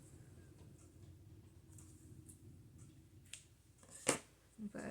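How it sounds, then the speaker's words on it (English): Scissors snip off a loose string on a fabric junk journal spine, giving one sharp, close cut amid faint background noise and soft handling sounds. "So there's a little string here I want to cut off."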